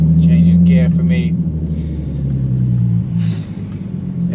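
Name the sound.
Audi TT Mk1 V6 3.2 engine driving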